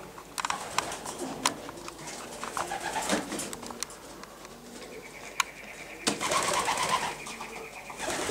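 Racing pigeons coo in a loft, with soft repeated cooing calls, occasional wing flutters and light pattering scattered throughout at close range.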